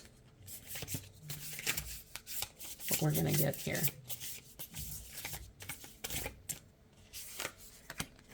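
Tarot cards are shuffled and riffled with soft rubbing, flicking sounds, while a person speaks quietly over them.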